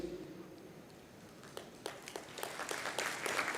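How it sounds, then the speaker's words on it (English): An audience at an Institute Day gathering claps for Desh. After a quiet start, the clapping swells into steady applause that grows louder and fuller toward the end. "I want to have a good round of applause to Desh here"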